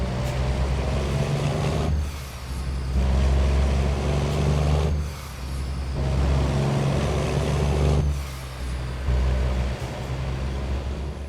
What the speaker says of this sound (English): Let's go ahead to the exterior and listen to this engine once again.